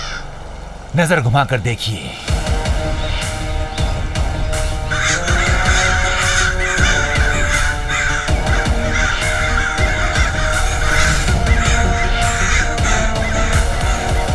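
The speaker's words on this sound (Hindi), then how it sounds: "ये दरिंदे कौवे तुझे यहाँ से जिंदा वापस बगदाद जाने नहीं देंगे" Harsh cawing of crows in an animated Aladdin episode, repeated and fairly loud, with someone speaking over much of it.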